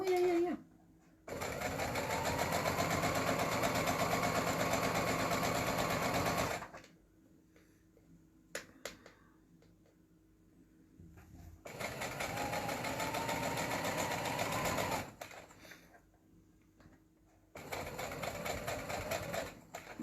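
A sewing machine stitching a pumpkin pincushion in three sustained humming runs separated by quiet pauses with faint handling sounds, close and clear with no talking.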